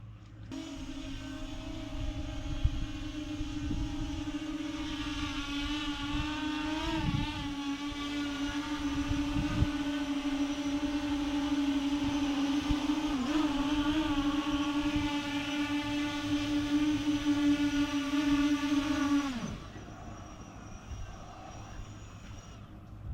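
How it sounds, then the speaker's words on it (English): A fishing drone's motors whine steadily with a strong tonal hum as it flies back over the water on the Coromandel, holding close and level before cutting off abruptly near the end. "Bring the drone home."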